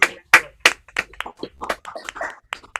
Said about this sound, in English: A round of applause for excellent academic work.